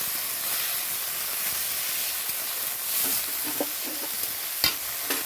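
Potatoes and sattu frying and being stirred in a pan, a steady close sizzling hiss with occasional scraping stirs and small clinks running throughout.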